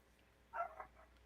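A single short dog bark, faint and somewhat distant, rising briefly out of a quiet background with a smaller trailing yelp.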